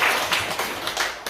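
A church congregation claps loudly in praise of Jesus during a sermon, a dense burst of applause with rhythmic surges close to the microphone, filling the short moment.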